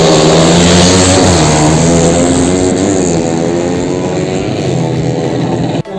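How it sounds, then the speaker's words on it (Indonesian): A drag bike engine at a drag racing championship in Aceh holds a loud, sustained buzzing drone at high revs, wavering slightly in pitch, with no voices over it. "naikkan RPM motor Anda"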